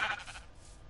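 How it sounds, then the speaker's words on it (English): A sheep in the HybridCraft Minecraft video game gives one short bleat, a brief nasal cry that fades within a second. "Here's some sheep."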